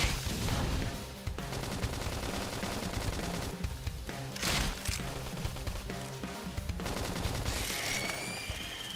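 Flame grenade attack during combat in Xenoblade Chronicles X, a dense barrage of rapid gunfire-like bursts and explosive crackles layered over game music, loud and sustained throughout with a brief whooshing flare midway.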